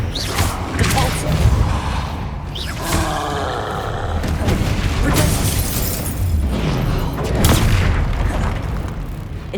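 A Depulso spell cast during Hogwarts Legacy combat, heard amid a dense wash of booming, roaring game effects with rushing whooshes and shattering bursts that stay loud and continuous throughout.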